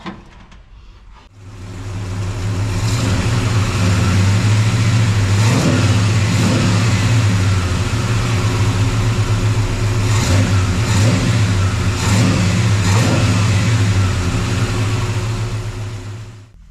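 A 1978 Chevrolet K10 truck engine starts and is revved repeatedly during carburetor tuning, a loud close rumbling idle rising in several throttle blips before settling, with no talking.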